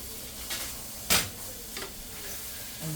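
String beans adobo with vinegar being stirred in a pan, heard as a low steady sizzle broken by a few brief scraping strokes, one louder than the rest, with no speech.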